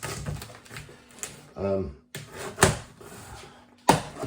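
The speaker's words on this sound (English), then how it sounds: "So yeah, let's get this thing cut open." Cardboard packaging around an air fryer oven is cut open in a few sharp scraping and ripping bursts with knocks against the box, close by, while someone talks between the cuts.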